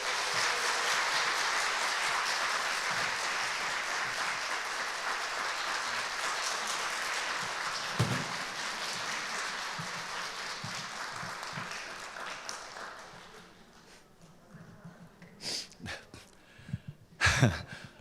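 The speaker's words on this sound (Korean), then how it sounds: "박수로 맞이해주세요." Applause from a church audience at a festival event welcomes a guest on stage, a dense steady clapping that holds for about twelve seconds, then thins out into scattered claps and a few louder bursts near the end.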